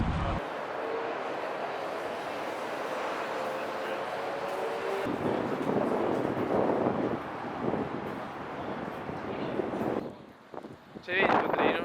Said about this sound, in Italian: C'è un vento della Madonna!